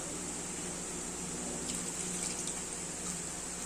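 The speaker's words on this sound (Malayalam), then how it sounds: "ഇനി നമുക്ക് കുറച്ച് വെള്ളം കൂടെ ഒഴിക്കാം" Continuous soft rush of water pouring into a pot of bitter gourd theeyal, steady and fairly quiet, with a faint hiss throughout.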